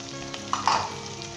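Spices frying in a pan with green chilies, tomato and fried onion for a chana, urad dal sabzi: a soft, even sizzle close by, with a couple of brief stirring scrapes midway.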